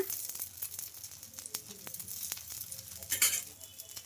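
Sago and moong dal dosa batter sizzles in oil on a hot pan, a steady soft crackle with scattered sharper pops and a brief louder burst near the end, no voices.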